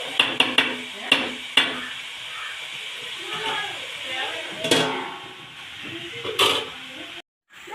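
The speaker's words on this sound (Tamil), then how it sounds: "அப்போ நல்லா மிக்ஸ் பண்ணி விடலாம்" Onions stirred in a pan with ginger, garlic and coconut oil for a Kerala mutton gravy: a soft, steady sizzle with sharp clinks of a spoon against the pan, close by, in two bursts early and then later on.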